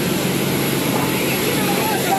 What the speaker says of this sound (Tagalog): The engine of the aircraft?